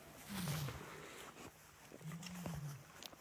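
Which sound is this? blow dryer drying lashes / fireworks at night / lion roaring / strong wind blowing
lion roaring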